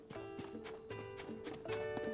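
Horse hooves clip-clop in Zelda: Tears of the Kingdom, a quick regular rhythm of close, crisp hoofbeats with a faint background tone running underneath.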